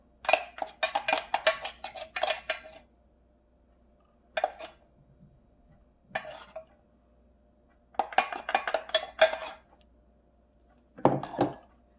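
Ground pumpkin powder is shaken through a fine sieve in several separate bursts of quick, dry rattling and tapping, each lasting a second or two, with near silence between them.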